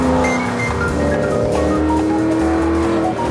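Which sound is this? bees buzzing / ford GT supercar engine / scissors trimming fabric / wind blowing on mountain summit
ford GT supercar engine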